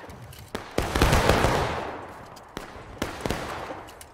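Civil War-era musket volleys in the online game War of Rights crack out in a ragged burst of overlapping shots, followed by a few scattered single reports, fairly close and loud.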